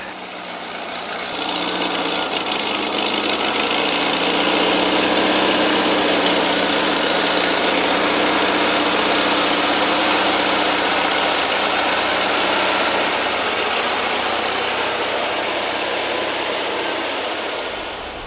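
A parked car's engine turns over and settles into a steady idle, a constant close hum and vibration running unbroken for the whole stretch with no talking.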